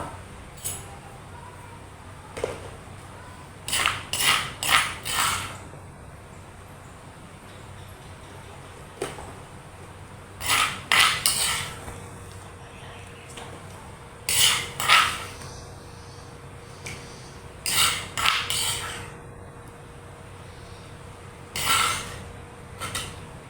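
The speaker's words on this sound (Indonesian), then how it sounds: "Masukkan bunga sepatu ke dalam cobek. Kemudian tumbuk hingga halus." Hibiscus flowers pounded in a stone cobek mortar, with clustered bursts of hard knocking and grinding strikes separated by pauses, close and moderately loud over a faint background hum.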